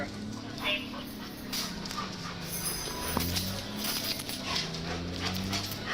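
A dog whimpers and pants close by amid steady background noise, while people talk over it in a tense exchange.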